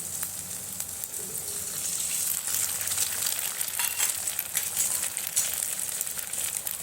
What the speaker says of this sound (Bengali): এবার ডিম দুটো দিয়ে দিচ্ছি